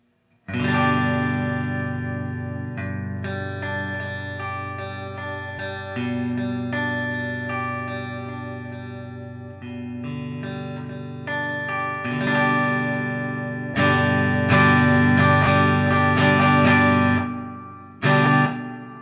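A G&L Legacy USA single-coil electric guitar played through the neck and middle pickups combined, with distorted, chorus-tinged chords and ringing notes strummed in phrases for about eighteen seconds, then ending in a sharp final stab.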